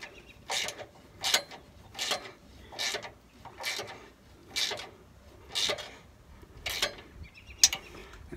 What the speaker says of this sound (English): I'm going to do that here with the ratchet.